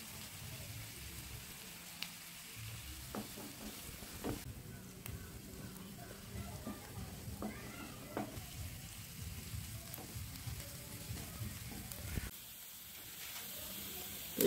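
Onions are fried in a pan with a little salt until lightly browned in a village kitchen, giving a soft, fairly faint sizzle with occasional stirring scrapes and clicks.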